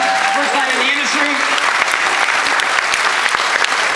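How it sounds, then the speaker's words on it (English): An audience at a Hollywood event breaks into loud, sustained applause, dense clapping filling the room steadily, while a voice speaks briefly over the start. "give these people a huge round of applause"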